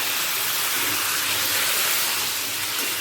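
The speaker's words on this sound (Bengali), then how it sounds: "মশলাটা একবারে শুকনো হয়ে গেছে তাই সামান্য জল দিচ্ছি অবশ্যই গরম জল" Hot water is poured into a pan where potato and pointed gourd curry is frying in dry spices, producing a brief, steady, loud sizzling hiss lasting about three seconds.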